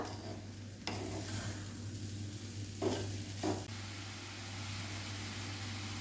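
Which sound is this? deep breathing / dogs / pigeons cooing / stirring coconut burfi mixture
stirring coconut burfi mixture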